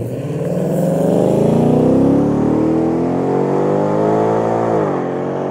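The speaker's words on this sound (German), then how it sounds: "Und dann habt ihr nämlich auch nochmal den Sound, wie das ist, wenn man vorbeifährt." A Ford Mustang convertible, a 2024 model, drives past with a loud, steady engine roar that rises and sweeps across the whole stretch, heard alone with no talking.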